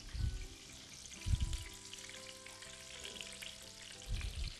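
Kadaif pastry fries in hot oil with a dense, close crackling sizzle, interrupted by a few low thumps and handling sounds.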